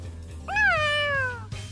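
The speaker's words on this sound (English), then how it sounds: "I'm acting guardian of this kitty." A cat in the video game Tales of Xillia 2 gives a single clear, drawn-out meow, close and prominent over a low background hum.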